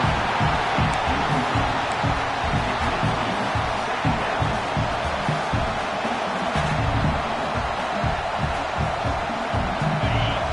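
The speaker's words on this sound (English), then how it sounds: "Listen to this crowd just shaking the girders of this place" A dense, steady crowd roar fills a large stadium in the College Football 26 video game, a constant wash of voices with scattered shouts, holding level throughout.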